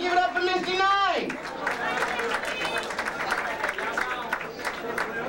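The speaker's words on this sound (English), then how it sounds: "It don't hurt to clap." Audience clapping at a drag pageant in a show lounge, continuing as a steady wash after a sung or drawn-out vocal note at the start, with crowd chatter mixed in.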